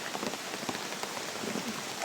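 Steady rain falls continuously during a typhoon, a dense even patter on surfaces nearby with no voices over it.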